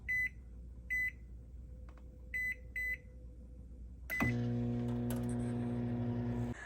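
Several short electronic beeps, then a microwave oven cooking rice hums steadily with a low drone, running continuously without any talking.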